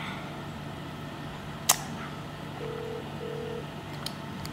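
A phone gives two short, evenly spaced electronic tones, faint against a steady background hum, after a single sharp click, with no talk.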